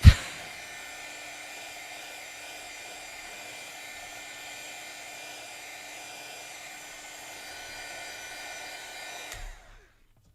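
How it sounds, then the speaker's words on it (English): A craft heat tool blows on its high setting, a steady loud whooshing hum that runs alone for about nine seconds before cutting off and winding down. "since I have my heat tool out, I might as well just hit this with the heat tool"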